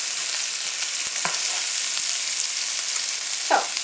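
Sausages frying and browning in a pan, a steady close sizzle with a few soft clicks and scrapes of stirring, no voices.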